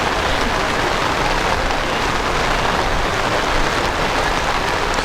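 Steady rain falls hard and evenly at an outdoor track meet, a dense continuous hiss with no other sound standing out.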